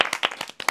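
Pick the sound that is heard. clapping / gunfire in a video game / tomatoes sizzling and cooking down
clapping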